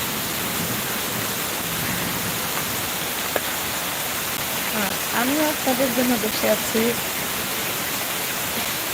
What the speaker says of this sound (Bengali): এখানে এই বৃষ্টির ঝড় এমন যে এমন লাগে ভালোই লাগে